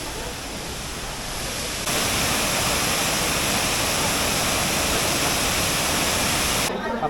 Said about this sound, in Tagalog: That's the largest waterfall here.